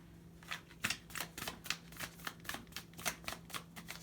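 Starseed Oracle cards are shuffled by hand at close range, a run of quick papery riffling bursts repeating in an uneven rhythm, with no talking.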